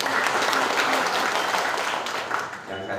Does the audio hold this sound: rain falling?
no